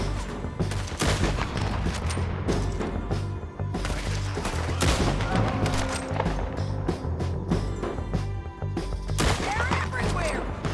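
Gunfire in a shootout in the game Red Dead Redemption 2, with dense rapid shots in rattling bursts under a low rumbling game score, while voices talk and shout throughout.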